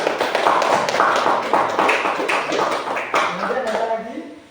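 Students in an Islamic jurisprudence class at an Indonesian madrasa clap together, a close, brisk run of hand claps with overlapping taps lasting the whole stretch.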